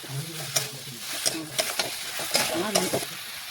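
Cauliflower and fish stirred with spices in a hot pan, a steady sizzle with scraping spatula strokes and clinks repeating every half second or so, close and fairly loud.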